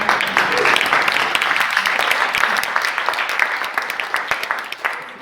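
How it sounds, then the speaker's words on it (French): Audience applause closing a weekend tech-care hackathon showcase in Brussels, a dense steady wash of many hands clapping that thins out toward the end, with some talk mixed in. "on peut les applaudir"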